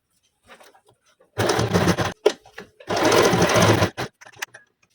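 A sewing machine stitches a zip onto a transparent net fish-cut petticoat in two steady, close bursts of rapid mechanical whirring, separated by a short pause and followed by small handling clicks.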